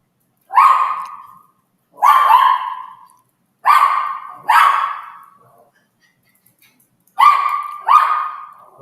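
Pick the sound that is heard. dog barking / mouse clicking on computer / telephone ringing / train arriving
dog barking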